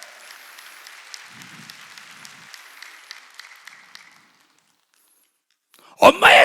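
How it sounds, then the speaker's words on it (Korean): Church congregation applauding during a Wednesday worship service: a steady wash of many hands clapping for about four seconds, then a fade to silence before a loud voice breaks in. "빨리 박수로 하나님께 영광 돌려가지고"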